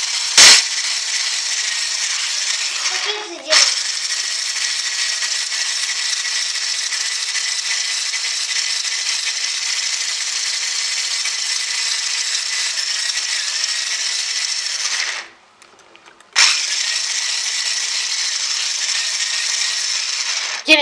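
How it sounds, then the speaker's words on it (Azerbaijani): Steady, sustained hand-stirring of sugar into an egg cream mixture, a continuous close whisking scrape that runs on evenly, with brief breaks near the start and later, and no talking. "Yenə əlimi saxlamadan qarışdırıram."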